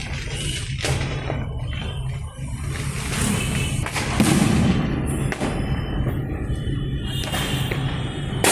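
Distant Diwali firecrackers crack and thump intermittently against a constant low outdoor hum, with a few louder bursts spaced irregularly.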